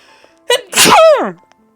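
A single close, loud sneeze with a sharp intake followed by a strong explosive burst, isolated against near silence.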